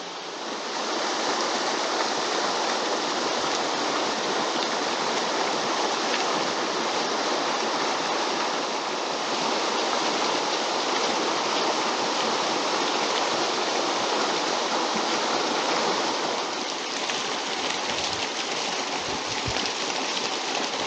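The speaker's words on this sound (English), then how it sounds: "Main waterfall here," Main waterfall at Noisy Bay on Lake Superior, Ontario, a steady, loud, broadband rush of falling water that runs unbroken throughout, with no voices.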